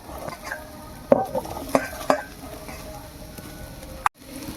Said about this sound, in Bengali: এবার আমি সোয়াবিনগুলো যে কুচিয়ে রেখেছিলাম এই দেখুন ছোটো ছোটো করে ওগুলো আমি ওর মধ্যে দিয়ে দেবো